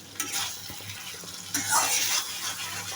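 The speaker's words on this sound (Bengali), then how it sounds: "তো দেখুন এবার নেড়ে চেড়ে দেবো ট্যাংরা মাছগুলো।" Tengra fish being stirred in a frying pan with spices, a steady close sizzle with soft scraping and a louder burst of frying partway through.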